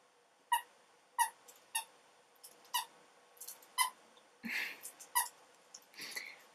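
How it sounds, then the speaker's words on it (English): Squeaky dog toy being squeezed by a dog indoors, a string of sharp, faint squeaks in an uneven rhythm, with some breathy rustling near the end. "now he started squeaking the toy"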